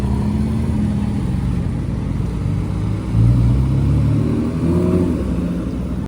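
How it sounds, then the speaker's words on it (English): A Lamborghini Aventador LP700 supercar's engine drones loudly nearby, then swells as the car revs and passes by on a city street, with no voices. "we did manage to find one other supercar down the road as that Aventador passed by"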